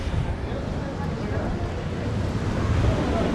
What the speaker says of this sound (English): A bit choppy on the sea, some waves.